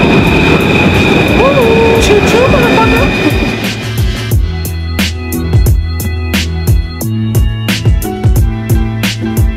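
A train in Paris rolls past close by, with rumbling wheels, rhythmic clickety-clack over rail joints and metallic squeals, loud at first and then a series of sharp repeated clanks as the cars go by.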